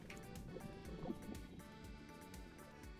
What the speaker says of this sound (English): If I go near lava, I can hear the bubbling.